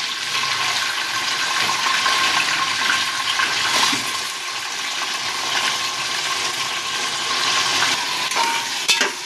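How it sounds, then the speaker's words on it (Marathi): Chopped onion added to garlic in hot oil and ghee for chicken biryani fries with a steady, dense sizzling hiss, occasionally broken by stirring scrapes, close and continuous without speech. "कांदा मी चांगल्या याच्या तेलात आणि तुपात मिक्स करून घेते।"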